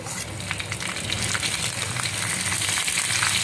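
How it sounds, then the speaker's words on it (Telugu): Cumin seeds and green chillies fry in hot oil with a steady, bright, close sizzle and crackle that holds throughout, growing slightly louder toward the end, with no talking. "జీలకర్ర కొంచెం వేగుతుంది కదండి"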